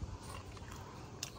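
Close, crunchy chewing of burnt cashews with irregular bites and faint crackles, quiet and steady throughout.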